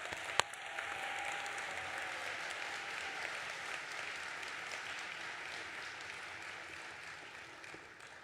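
Sustained applause from an audience at a spring nursing pinning ceremony, a steady dense wash of clapping that holds evenly throughout and tapers slightly at the end.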